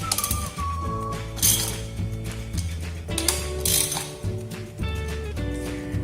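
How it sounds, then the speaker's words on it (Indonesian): Ratchet tightening a bolt with a 17 mm socket on a Torqflow transmission counter valve: continuous close metallic clicking of the pawl in steady strokes, over a background of ringing mechanical tones, with no talking. "Kita dapat mengencangkan dengan soket ukuran 17"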